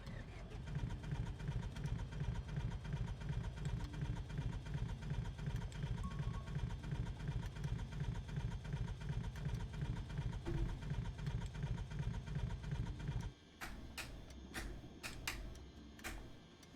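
An aircraft engine in Microsoft Flight Simulator 2020 makes a low, rhythmic throbbing drone at close range that holds steady, then cuts off abruptly near the end, leaving a few sharp clicks.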